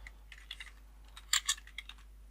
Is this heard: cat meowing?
no